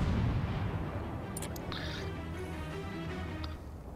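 Guns of the IJN Tenryu, a tier 3 Japanese cruiser in World of Warships, fire in a deep rumbling low boom that fades under a steady sea and engine hum, with a few faint interface clicks and no talk.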